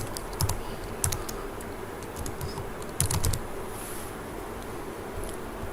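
Quick, light clicks of fingers typing on a computer keyboard come in short bursts with brief pauses, close and quiet against a soft room hiss.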